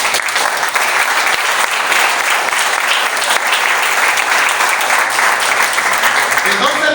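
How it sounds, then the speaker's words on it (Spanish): A church congregation at a sermon on fasting breaks into loud, steady applause. The dense clapping holds evenly throughout, with faint voices mixed in. "Denle un fuerte aplauso a todos"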